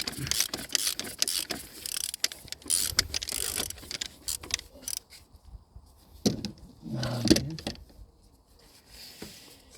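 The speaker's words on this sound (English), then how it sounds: "Need the 32 socket to remove the oil filter cap" A socket wrench works the oil filter cap loose on a 2012 Volkswagen Golf during a full service, giving a run of close, dense ratcheting clicks and metallic clatter. The clicking eases off and is followed by a few softer handling knocks.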